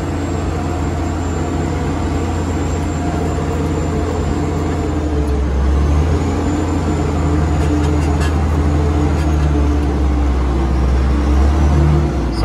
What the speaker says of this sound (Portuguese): Aí eu vou subindo em segunda marcha.